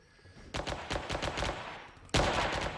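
Shotgun and Desert Eagle gunfire in the War Inc video game: a rapid string of close, loud shots, then one sharp blast near the end, with no voices.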